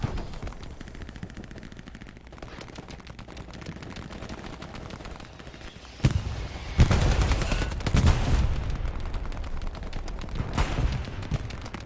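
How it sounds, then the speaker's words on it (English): MP40 submachine gun fire in the World War II shooter Hell Let Loose, with ongoing battle noise and distant shots building into loud rapid bursts of gunfire in the second half. "Making headshots with the MP40 is so satisfying."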